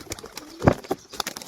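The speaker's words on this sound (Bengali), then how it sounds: "এই হচ্ছে নর পায়রাটা" A male pigeon coos in a few short, close bursts, one louder throaty coo standing out among softer calls and rustling.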